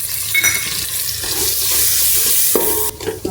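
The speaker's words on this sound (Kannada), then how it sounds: "ನೋಡಿ ಈಗ ಒಗ್ಗರಣೆ ಹಾಕಿದ ನಂತರ ಈಗ ಮಸಾಲೆ ಎಲ್ಲ ಹಾಕ್ಕೊತೀನಿ." Masala goes into a hot oil tempering for Maggi noodles and sizzles loudly and steadily up close while a spoon stirs and scrapes the pan.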